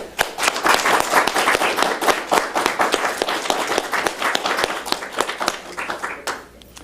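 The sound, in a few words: audience applause for contestants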